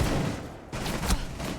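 Gunfire in the tactical shooter Phantom during a competitive match, a burst of shots fired through a wall, loud and close, with a brief dip before another round of rapid fire.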